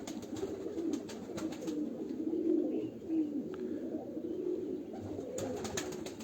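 Sultan tedhi pigeons kept on a rooftop loft in Baramulla, Kashmir, coo in a steady low murmur of overlapping calls, with faint clicks and flutters throughout.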